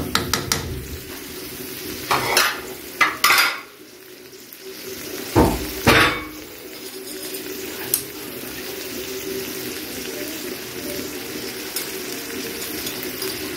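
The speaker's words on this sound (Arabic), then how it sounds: "هنبدا نقلب فيها ونشوحها لحد ما تستوي الكلاوي معانا" Lamb kidneys sauté in a pan under a low continuous sizzle, with a few loud clanking stirs and scrapes of utensil on metal early on, then steady frying.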